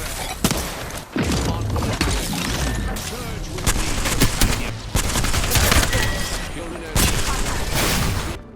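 The Devotion energy weapon firing in a video game, sustained loud rapid automatic fire that runs nearly nonstop with brief breaks, while someone talks over it.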